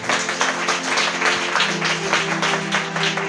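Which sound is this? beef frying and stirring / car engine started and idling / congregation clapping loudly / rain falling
congregation clapping loudly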